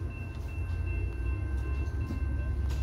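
A train rumbles past close by at Mineola during a Fiesta de Mayo, a loud, continuous low roar with faint steady tones above it and no talking.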